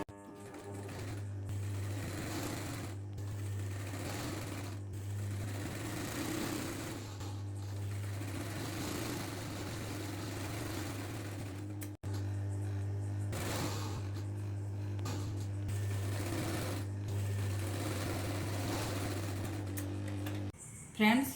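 A sewing machine stitches a blouse with a steady, rapid mechanical whir. It pauses briefly about halfway through, resumes at the same pace and stops just before the end.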